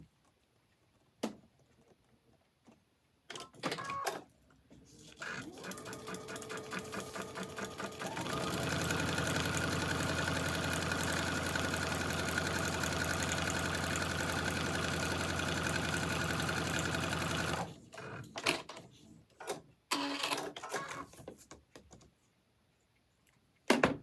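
A sewing machine stitches a seam through a foundation paper-pieced quilt block, a loud steady mechanical whir of rapid stitching lasting about ten seconds, framed by quieter handling clicks and taps before and after.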